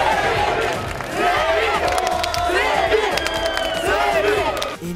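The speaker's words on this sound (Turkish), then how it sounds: "Yüzlerce kişi tezahürata başladı." At Survivor contestant Semih Öztürk's autograph signing in Bakırköy, a large crowd of fans chants and cheers loudly in rhythmic surges, with shouting voices layered over the steady crowd noise.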